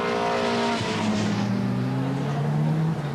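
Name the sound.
racing car tyre rubbing on the wheel arch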